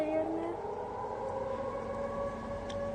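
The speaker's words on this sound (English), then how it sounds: "You can hear those air raid sirens." Sustained siren tones drone on with a slight pitch drift over a rumbling background, continuous and fairly distant, with no talking.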